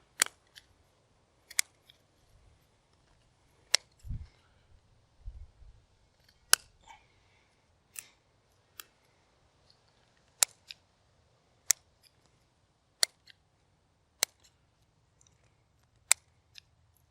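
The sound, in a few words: scissors cutting pepper plant stems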